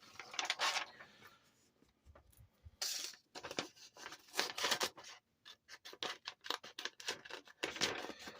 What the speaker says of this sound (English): I think I'll use my little delicate scissors this time